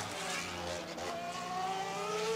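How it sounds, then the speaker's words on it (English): Red Bull Formula 1 car with an exhaust-blown diffuser at Valencia, heard from the grandstands as a distant, fairly faint high-pitched engine wail rising and falling as it passes through. "the exhaust blown diffuser sound coming from the Red Bull"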